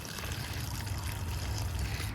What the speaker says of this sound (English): let's go ahead and give them some water